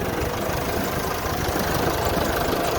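A farm tractor on a rural road near Mahaica Creek after rice harvesting, its engine giving a steady, close, rough low drone with knocking pulses and no voices.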